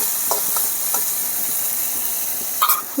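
Chilli and spice masala for a fish curry frying in hot oil, giving a steady close hiss and sizzle with a few faint stirring taps and a brief louder scrape near the end.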